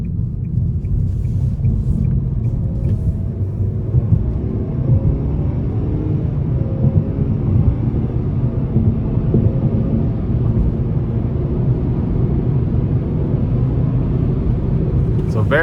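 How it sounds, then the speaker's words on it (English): A 2024 Nissan Sentra SR in sport mode accelerates onto an interstate, heard as a steady, loud low engine and road rumble from inside the cabin throughout, with faint speech in the background. "All right, we're gonna give it a bit of throttle here."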